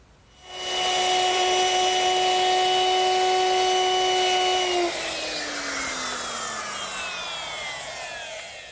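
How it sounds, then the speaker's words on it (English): A wood router with a 3/8 inch round-over bit rounds the edges of a wooden Shaker box: a high whine spins up, cuts steadily for about four seconds, then winds down slowly as the motor coasts to a stop. "now we'll just round off the edges using the router"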